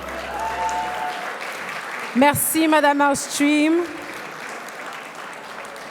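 Award winners at a scholarship gala celebrating entrepreneurial diversity receive a round of applause that fills the hall in the background, while a voice speaks briefly over the clapping.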